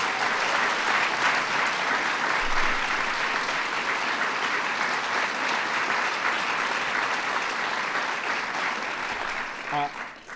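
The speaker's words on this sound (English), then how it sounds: "So give him a big round of applause in his absence." An audience at a national arts and humanities medals ceremony applauds steadily, a dense wash of clapping that holds for about ten seconds before tapering off.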